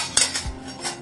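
Metal cooking vessel and ring fitting being handled while preparing homemade paneer in a kitchen, giving a sharp metallic clank followed by a few lighter clinks and rattles, close and alone without talk.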